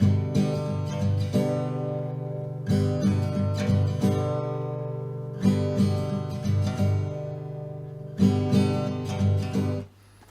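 An acoustic guitar strummed at full tempo, the same rhythmic strumming pattern cycling about four times, bright and close, with no voices.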